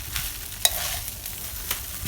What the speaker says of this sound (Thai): ผัดเพิ่มความหอม